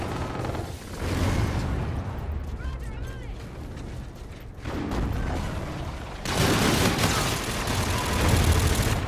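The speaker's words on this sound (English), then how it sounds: "Okay, the shotgun sucks." Shotgun blasts in the Call of Duty: Infinite Warfare beta come in several heavy bursts among clattering game effects, with stretches of quieter in-game noise between them.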